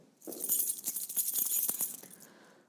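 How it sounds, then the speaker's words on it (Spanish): Metal keys jangle and clink in a quick cluster of bright rattling hits lasting about two seconds, close and fairly clear with no talk. "para usted es un sonido de llaves."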